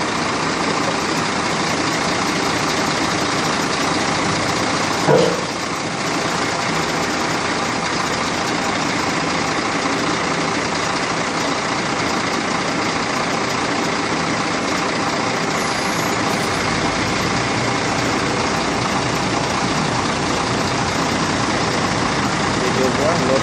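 A Scania truck engine idles steadily throughout, a low continuous diesel rumble with one brief knock partway through and voices faintly in the background.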